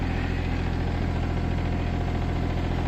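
A Hitachi Zaxis 20UR mini excavator's engine idles steadily close by, a constant low, even diesel thrum with a faint rhythmic throb and no talking.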